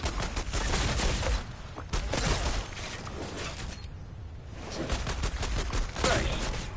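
Sidearm guns fire in the video game Outstriders, giving loud bursts of rapid shots that break off briefly between volleys and then start again.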